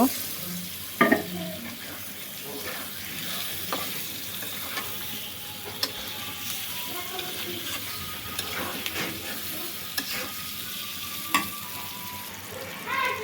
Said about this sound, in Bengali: শসাটা দিয়ে কিছুক্ষণের জন্য কষিয়ে নিব